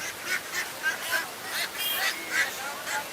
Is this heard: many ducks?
yes